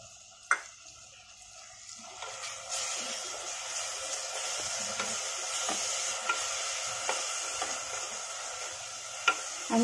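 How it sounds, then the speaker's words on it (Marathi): Ground spice paste for a cauliflower and potato curry is sautéed in a pan, a gentle sizzle that swells after a couple of seconds into a steady hiss with occasional stirring clicks, fairly quiet and close, no talk. "आणि थोडंसं परतून घ्यायचं."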